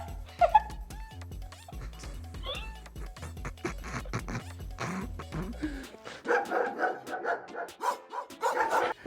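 Dogs bark and yip in a run of short sharp calls mixed with cat-like meows, fairly close and moderately loud, followed by a denser stretch of busy noise toward the end.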